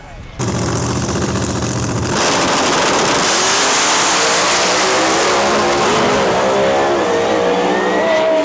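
Two powerful drag race cars roar loudly, one engine revving hard and then the sound swelling into a sustained full-throttle blast as they launch, close and dominating throughout.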